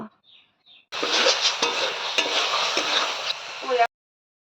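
Chicken frying down in masala in a pan for chicken bhurji, a loud close sizzle with spatula stirring and scraping for about three seconds, preceded by brief faint sounds and ending abruptly.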